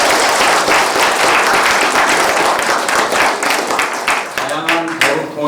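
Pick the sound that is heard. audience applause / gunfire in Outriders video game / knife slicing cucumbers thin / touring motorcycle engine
audience applause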